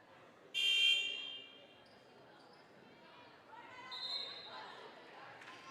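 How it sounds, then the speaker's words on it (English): A short electronic buzzer blast sounds early at a girls basketball game between Oregon and Columbus, then fades into gym crowd noise and a commentator talking. "Second buzzer there breaks up the Columbus huddle."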